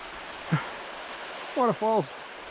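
A river with waterfalls rushes beside a trail in the Scottish Highlands, a steady broadband hiss of flowing water throughout with a few short voiced sounds from a person over it.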